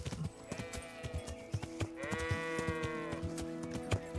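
Sheep bleat repeatedly in a medieval village of the video game Kingdom Come Deliverance, wavering nasal calls close by over faint hoof clops and ambient rustle.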